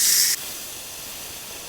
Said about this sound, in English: I'm going to go to vent. You're going to see the steam come up